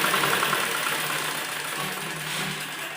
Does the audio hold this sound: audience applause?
no